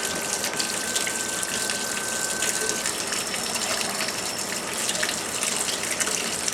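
Cold water runs from a kitchen tap for cake batter in a steady, loud, unbroken rushing gush that lasts the whole time, close by and alone.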